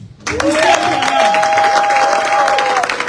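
A church audience claps steadily for a few seconds, with a sustained high held voice or tone ringing above the applause.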